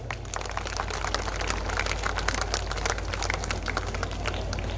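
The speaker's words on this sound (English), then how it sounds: "Ladies and gentlemen, please let us give them a great round of applause." Dense, steady applause from an audience at a school annual day function, continuous clapping blended with crowd noise and a constant low hum from the hall, evenly loud throughout.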